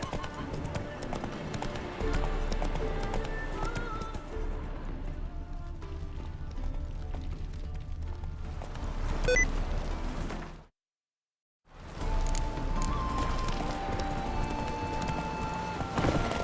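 Roach, the horse in The Witcher 3: Wild Hunt, gallops with steady, rhythmic hoofbeats over game music. Voices speak at times, and all sound cuts out for about a second partway through.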